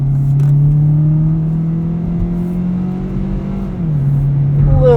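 A 2018 Kia Rio EX sedan engine pulling under acceleration in sport mode, with a loud, steady rising drone from inside the cabin, a brief dip at a gear change, then the climb resuming.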